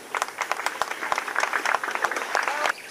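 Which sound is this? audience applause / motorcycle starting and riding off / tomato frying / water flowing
audience applause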